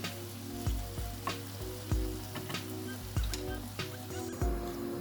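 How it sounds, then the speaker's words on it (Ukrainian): Meat and carrots frying in a pan for chanakhi, a steady close sizzle broken by several sharp clanks of a utensil stirring against the pan, with no talking. "Зараз буде жаритися з моркою."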